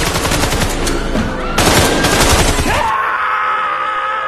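Rapid rifle gunfire rattles in dense bursts for about three seconds, loud and close, then cuts off into a lingering ringing tone; groaning voices mix in with the shots.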